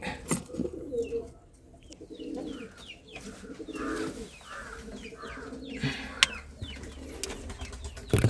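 Pigeons kept at home coo repeatedly in low, throaty, rolling calls, close by. Faint chirps, occasional wing flutters and a few sharp knocks mix in.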